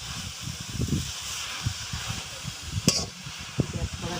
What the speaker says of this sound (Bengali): এইভাবে নেড়ে শাকটাকে আমি ছোটো করে নেব।